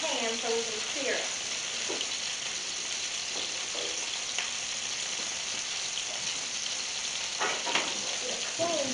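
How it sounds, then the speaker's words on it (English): Meat searing in a piping hot pan gives a steady, close hiss of frying that runs unbroken throughout, with a few faint clinks and scrapes on top. "You want a piping hot pan so we can sear it."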